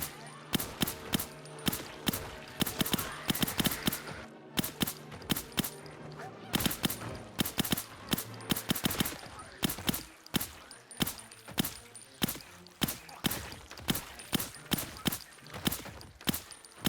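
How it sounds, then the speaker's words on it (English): Rifle fire in a zombie survival video game crackles in rapid, uneven bursts of sharp shots, fairly quiet overall, with occasional speech in the background. "So I pulled out my rifle and started using it instead."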